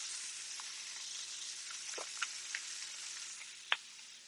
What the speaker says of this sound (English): See how our steak's doing? Nice. I'm going to sear the other side